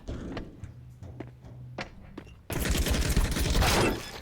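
A Counter-Strike match with a quiet spell of faint clicks and movement that suddenly breaks into a loud, sustained burst of gunfire lasting over a second.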